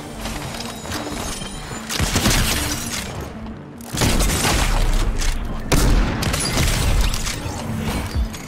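Gunfire in the video game Fortnite, a loud dense barrage of shots and booms that fills the whole clip with brief gaps between bursts.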